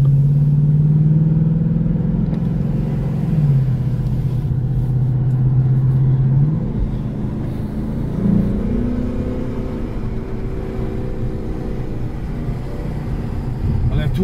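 A 2017 Ford Mustang GT V8 rated at 450 horsepower cruises with a deep, steady drone heard from inside, its pitch dropping twice as the engine brakes off the throttle, then continuing as a low rumble.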